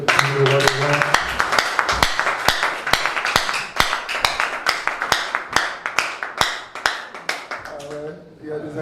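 A church congregation claps together in a steady, loud rhythm of sharp, evenly spaced hand claps, with voices mixed in beneath, before the clapping fades out at the end.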